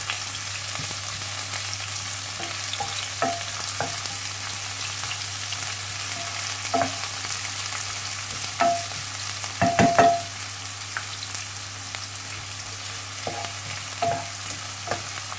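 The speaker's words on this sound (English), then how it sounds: "I'm just going to fry these down a little bit." Aubergine (eggplant) frying in a pan, a quiet, steady sizzle with occasional clicks and scrapes of stirring, a brief cluster of louder stirring near the middle, close by with no talking.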